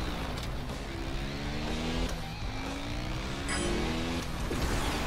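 ATV quad engine in the ATV Drift & Tricks game, a steady buzzing drone with rising and falling revving pitch sweeps and a brief boost burst, loud and continuous without talk.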